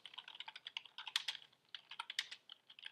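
Rapid typing on a computer keyboard, a close, quiet run of uneven key clicks with brief pauses, no voices.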